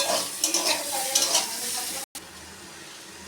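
Potatoes fry in oil for aloo posto, a close hiss and crackle with several scraping stirs, cutting out briefly before a quieter, duller sizzle continues.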